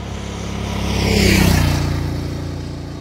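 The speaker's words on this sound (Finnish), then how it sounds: "sieltä tulee moottoripyörä" A motorcycle passing along a quiet rural road in the Saimaa lakeland, its engine drone swelling as it nears and fading away over a few seconds, loud and steady with no talk.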